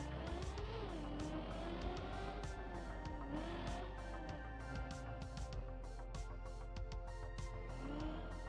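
A Trackmania car engine drones steadily, its pitch rising and falling as the car revs, with faint tire squeals and clicks over a constant game backdrop.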